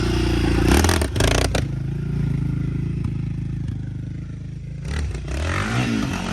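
A Raptor 660 ATV engine being rebuilt runs close up with a steady low rumble, punctuated by a few sharp clattering blips near the start and a rising rev toward the end.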